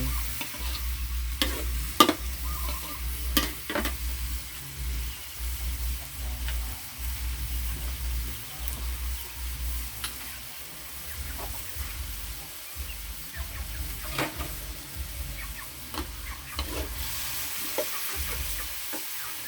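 Shrimp and cauliflower stir-fried in a pan, a continuous sizzle with quick repeated scraping and clacking of a spatula, a low rumble underneath, close and fairly loud.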